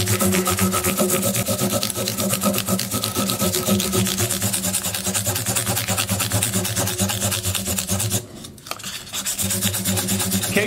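Fine 800-grit sandpaper is rubbed back and forth during fret work on a 1970s Martin D28 guitar, a continuous close rhythmic rasping that pauses briefly near the end before resuming.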